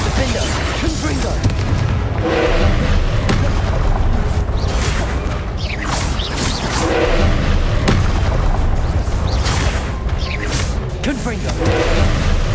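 Repeated Confringo blasting-spell explosions during Hogwarts Legacy combat, with booming blasts and whooshes over a loud, dense mix of battle noise and spoken spell incantations.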